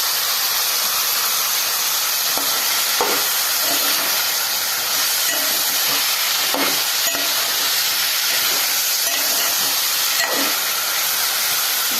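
Tomatoes fry with salt and turmeric in a pan for a small-fish curry, giving a loud, steady sizzle and hiss throughout with faint scattered stirring knocks and no talking.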